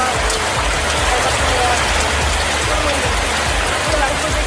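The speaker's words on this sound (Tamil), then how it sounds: "திருவாரூர் மற்றும் அதன் சுற்றுவட்டார பகுதிகளில் விட்டுவிட்டு கனமழை பெய்தது." Heavy rain pours down steadily on roads and surfaces in Tiruvarur, a dense, continuous hiss of drops at constant loudness with no break.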